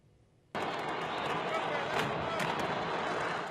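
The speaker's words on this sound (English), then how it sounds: "one fireworks stall after another exploding in succession" Fireworks stalls exploding one after another at a fireworks market north of Mexico City, a sudden dense roar of bursts and crackling that erupts after a brief quiet and rumbles on continuously in the distance.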